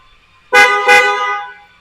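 The stock factory horn of a 2026 Ford Everest Trend sounds in two loud, close blasts that run together, the second lingering before fading out.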